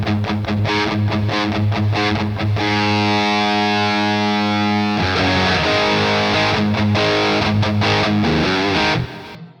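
Distorted electric guitar played through an Enya Nova Go Sonic with onboard EQ, alone and loud: choppy rhythmic strummed chords, a sustained ringing chord in the middle, then more chopped chords before a sudden cut.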